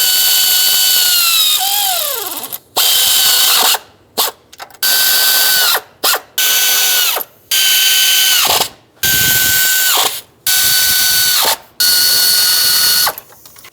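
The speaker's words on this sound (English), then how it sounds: "That way I can bottom them out with my air ratchet to make things faster" Air ratchet running bolts down on a 2006-2011 Chevy HHR engine during a knock sensor replacement, loud close whirring bursts repeated about eight times with short pauses between, each winding down as the bolt bottoms out.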